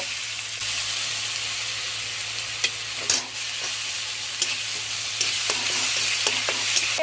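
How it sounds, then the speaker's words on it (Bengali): Onion, ginger and garlic paste frying in a pan for goat curry, a loud continuous close-up sizzle and hiss with occasional stirring clicks and scrapes, no voices. "এটি দিয়ে ভালো করে কষিয়ে ফেরত আসছি"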